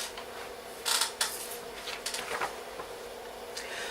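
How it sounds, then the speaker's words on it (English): A Wanhao Duplicator i3 3D printer warms up and initializes, giving off a close, steady mechanical whir and hiss broken by short bursts of buzzing movement and faint clicks. "Wait for the printer to warm up and initialize."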